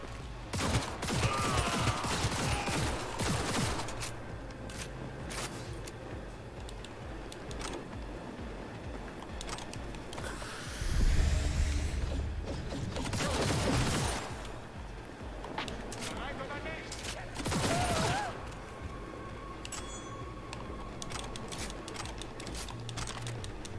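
Cannon-style gunfire in the Cyberpunk 2077 video game, with loud bursts around the middle and near the end, under steady talk throughout.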